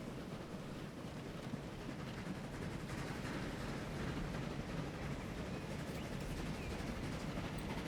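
A new passenger train in Transport Fever 2 gets underway, giving a steady, dense rumble of rolling wheels and rail noise that holds evenly loud for the whole stretch, with no voices over it.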